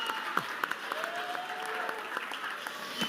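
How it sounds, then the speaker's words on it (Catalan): Audience applause at a third-anniversary school ceremony in Santa Maria d'Eivissa, Ibiza: steady, dense clapping from a crowd filling the whole stretch at moderate level, with a few sharper individual claps standing out. "Un aplaudiment."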